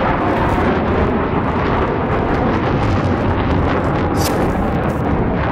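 Heavy explosions from incoming munitions in the Battlefield 3 video game, a dense continuous roar of blasts and rumble filling the whole stretch at high loudness, with no talk over it.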